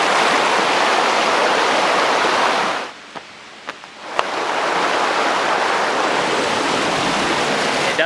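Gong Chao Waterfall on Koh Kood island sends a loud, steady rush of falling water, close and broadband, cut by a brief quieter gap with a few knocks before the roar returns.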